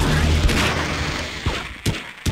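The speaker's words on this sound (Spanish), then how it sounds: "me has pegado dos tiros." Gunfire in the video game Half-Life comes as a loud burst of sharp reports, then a few separate cracks spaced out over a couple of seconds against a noisy, rumbling background.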